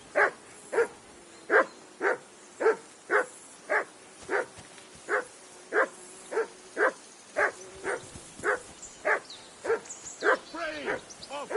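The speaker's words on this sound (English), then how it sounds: "Stop bothering me, mutt." A dog barks in a steady series of sharp, evenly spaced woofs, close and clear, ending in quicker yips, in the medieval game Kingdom Come: Deliverance II.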